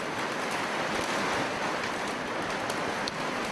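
Heavy rain pours loudly and steadily without a break, a dense wash of noise filling the whole stretch with no voices over it.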